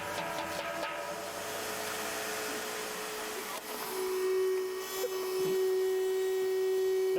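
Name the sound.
vacuum cleaner running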